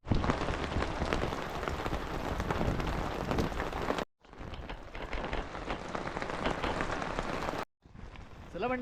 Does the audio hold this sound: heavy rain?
yes